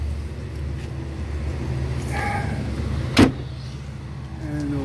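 Engine of a 2008 Mercury Mariner Hybrid 2.3 idling steadily after starting, a low constant hum with a brief sharp click or thump near the middle.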